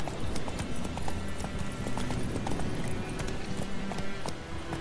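Roach, a horse in The Witcher 3: Wild Hunt, galloping with steady rapid clip-clop hoofbeats close by, loud and continuous throughout, with faint game ambience beneath.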